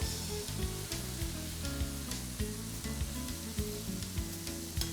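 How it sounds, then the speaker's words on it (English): Crab pieces frying in hot oil produce a dense, continuous bubbling sizzle, close and steady, with faint scrapes and knocks of a utensil in the pan and no voices. "once I dish out the crab from the oil here"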